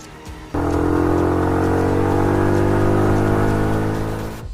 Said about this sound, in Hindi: ये कहकर चुड़ैल अपने बच्चे और समीर को बाइक पर बैठाकर चली जाती है।